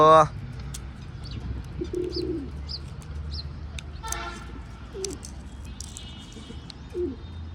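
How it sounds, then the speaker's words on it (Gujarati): Pigeons coo softly and repeatedly while being fed peanuts outdoors, with scattered chirps from other birds and a sharp knock at the start, over a steady low background rumble. "કબૂતર ઉતરી ગયા ને આપણે માંડવી ખવડાવી છે"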